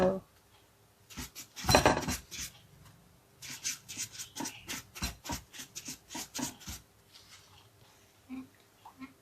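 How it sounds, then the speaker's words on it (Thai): A khanom krok pan is wiped with rice bran oil, giving soft close rubbing strokes and light metallic clinks in a quick, uneven rhythm, with a voice faintly under it. "ใช้น้ำมันรำข้าวนะคะ เช็ดเบ้าขนมของเรา"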